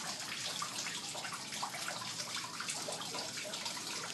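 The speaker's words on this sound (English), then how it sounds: "Little waterfall." A small waterfall in a greenhouse aviary with koi and turtles, splashing as a continuous broadband rush of falling water, steady and fairly close, with no voices.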